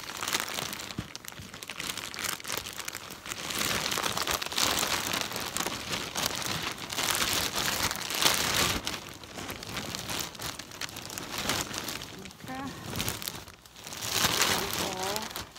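A goose down duvet is pressed to squeeze the air out, giving a loud, continuous crinkling and rustling of fabric in rolling surges, with a voice talking over it.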